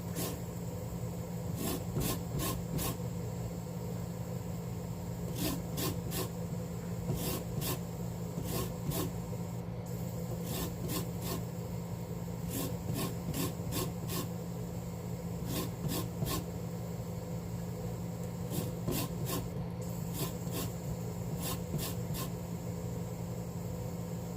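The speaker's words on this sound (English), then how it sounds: "I'm zesting the lime, honey." Limes being zested with a zester give a steady, close rasping scrape in repeated quick bursts of three or four strokes, set against a constant low kitchen hum, with no talking.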